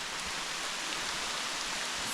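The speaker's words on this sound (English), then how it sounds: "It is bucketing down. The rain just started." Heavy rain pours down during a bikepacking ride about 6 km from Kinloch, a dense, steady hiss of drops with no voices.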